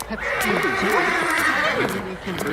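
A horse neighs and whinnies in a long, loud, wavering call close by, with a hint of hoof clops beneath and faint voices around it.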